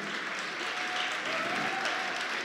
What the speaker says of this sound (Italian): vi vorrei chiedere di fare un grande applauso a mia moglie